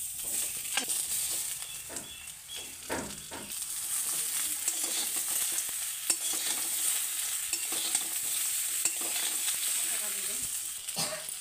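Mixed vegetables sizzle steadily in a hot pan while a utensil stirs and scrapes through them, with occasional clattering knocks throughout.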